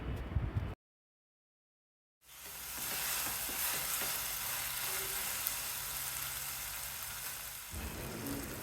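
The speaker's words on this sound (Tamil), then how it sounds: "2 டீஸ்பூன் அளவுக்கு இஞ்சி பூண்டு பேஸ்ட்டும் சேர்த்துட்டு 1 நிமிஷம் வரைக்கும் கைவிடாமல் கிளறி விட்டு வதக்கணும்" Tomato with ginger garlic paste sizzling and being stirred in a pan for chicken salna, a steady close frying hiss with scraping stir strokes after a brief silent gap, no talk.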